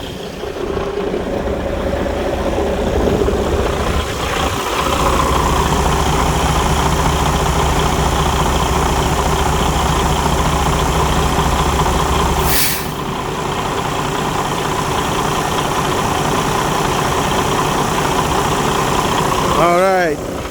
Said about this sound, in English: Engine sounds very solid. It's steady. It's not raving up and down as some of the old ones do.